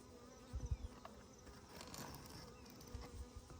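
Bees buzz faintly around a hive frame during a rescue of a colony from a tree trunk, a soft insect drone with a few close thumps and handling noises.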